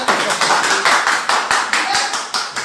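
An audience at a talk claps in an uneven, moderately loud burst, with several sharp, distinct hand claps standing out from the steady patter.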